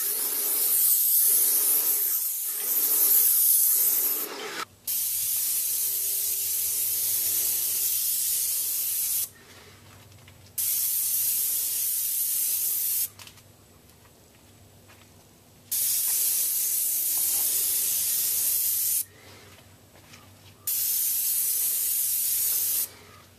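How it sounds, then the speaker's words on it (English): Paint sprayer coating house soffits and gutters, loud steady hissing bursts of several seconds each, switching on and off repeatedly with quiet gaps between, after a short stretch of softer hiss at the start. "Now, yesterday I sprayed the soffits all the way around the house and the gutters."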